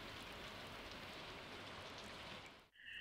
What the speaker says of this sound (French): Ah, il pleut.